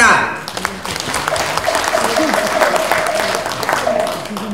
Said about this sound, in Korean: 다 함께 힘찬 박수로 축하합시다.